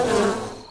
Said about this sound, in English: And wasps.